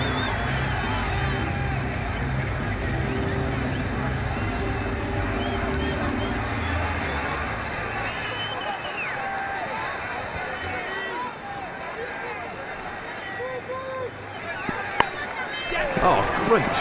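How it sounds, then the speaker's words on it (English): A stadium crowd in a cricket video game of an India vs Australia T20 World Cup Super 8 match roars and murmurs steadily, with commentary spoken over it throughout. "The crowd enjoyed that shot."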